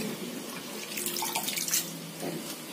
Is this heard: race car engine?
no